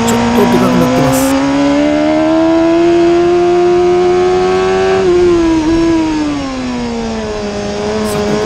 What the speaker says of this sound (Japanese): ここからエンジン音がちょっとでかくなってます。